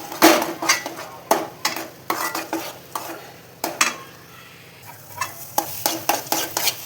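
A spoon stirs mashed sweet potato (shakriya) in ghee in a pan over low gas, giving repeated scraping strokes and clinks against the pan under a soft, continuous sizzle, with no speech.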